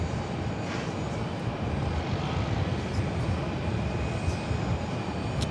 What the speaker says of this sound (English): This is Southwest Airlines 3219 coming in from Birmingham on the 737-800.